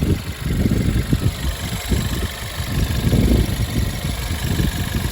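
A 2013 Volkswagen Golf Plus automatic engine idles with a rough, uneven low rumble, close by and steady throughout, with no talking.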